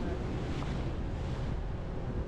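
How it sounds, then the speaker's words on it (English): Strong wind roars over rough sea at Botany Bay, heard from a small boat. Steady, heavy buffeting fills the whole stretch, with the wash of choppy water underneath and no voices. "The wind is making it worse and worse."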